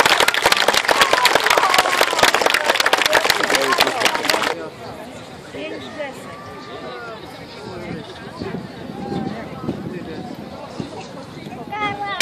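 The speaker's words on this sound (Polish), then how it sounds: "Gorące brawa." Loud applause from an audience at a taekwondo demonstration, dense clapping for about four and a half seconds before it cuts off abruptly, leaving quieter crowd murmur and scattered voices.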